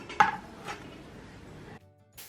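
An onion and a tomato are chopped finely with a knife, giving two or three quick, sharp knife strikes on a board near the start, then a short quiet stretch and a final clack.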